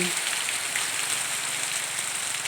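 Dense, steady hiss of heavy rain pouring down, a continuous wash of drops close by with no pauses.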